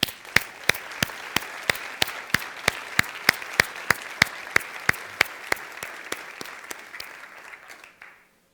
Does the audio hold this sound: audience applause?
yes